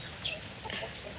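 A chicken clucks softly in short bursts, quiet and close, with a low background hum and no clear talking.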